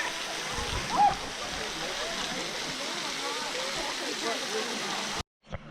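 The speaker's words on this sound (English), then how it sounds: "I wish I could have one of these waterfalls in my backyard." A steady rushing roar of falling water fills the scene, constant and fairly loud, ending abruptly near the close, at a large waterfall site in Spicewood, Texas.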